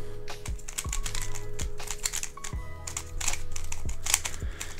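A licensed original Rubik's 3x3 cube is turned quickly, giving a steady run of light plastic clicks and clacks close to the microphone, with no talking.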